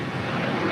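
An Alaska Airlines airliner on takeoff at LAX, a loud, close, broadband jet-engine roar that holds steady for under a second.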